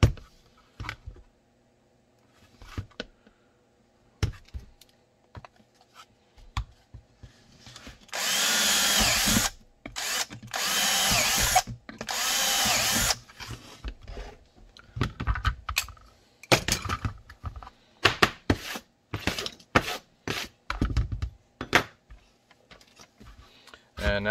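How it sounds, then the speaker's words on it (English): A power drill whines in several bursts, one long sustained run and shorter ones, between clicks, taps and handling noises close by, drilling holes in an outside-the-waistband holster for an HK P30SK pistol. "Drill the holes after, so it's perfectly"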